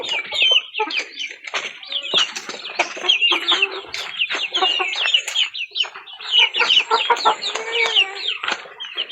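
A flock of chickens clucks and squawks continuously nearby, busy overlapping calls with brief pauses throughout.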